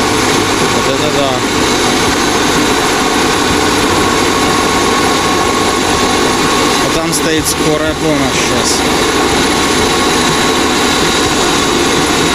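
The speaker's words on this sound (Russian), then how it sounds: "вертолет в темноте сел среди леса между деревьев" A helicopter engine runs after a night landing among forest trees in snowy mountains, a loud, steady, close roaring whine that continues throughout while a person talks over it.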